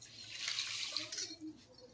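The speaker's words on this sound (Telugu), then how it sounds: "1 కప్పు వాటర్ వేస్తున్నాం" One cup of water poured into a pan with sugar for a sweet syrup, a soft splashing hiss that swells and fades over two seconds at moderate volume, with faint low hum underneath.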